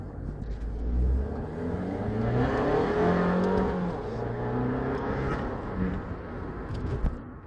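An Abarth 595 small sporty hatchback's engine revs loudly and close, its note climbing and easing through several throttle pulls over a steady mechanical whir, with no talking.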